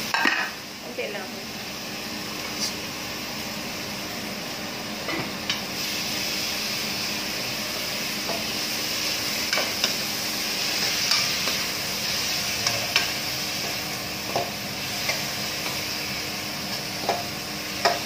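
Oil sizzles steadily in a pan as ingredients are sautéed for a home dinner, with a stirring spoon scraping and clinking against the pan now and then throughout.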